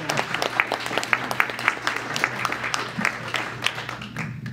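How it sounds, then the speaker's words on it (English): An audience at a speaker-series panel event applauds the panelists, a steady spattering of individual claps from a modest crowd, moderately close, fading slightly toward the end. "let's give our panelists a big round of applause"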